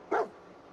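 A single short bark from the dog Dogmeat in Fallout 4, clear and close, with faint background ambience.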